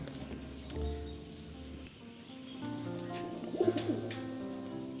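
Fancy feather-footed pigeons coo in a home loft, low rolling calls rising and falling close by, with a brief louder burst of cooing near the end.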